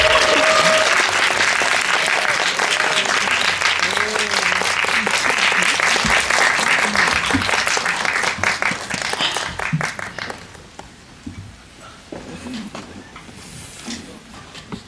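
A film screening audience gives a long burst of dense applause in a cinema hall as guests are welcomed on stage, steady and loud for about ten seconds before thinning out and fading to a quiet room.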